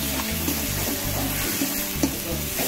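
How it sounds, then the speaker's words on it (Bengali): Black cumin and cumin paste frying and being stirred in a pan with spices, with a steady sizzle and soft scraping throughout and no voices. "এতে দিয়ে ভালো করে আমি নেড়ে নিচ্ছি।"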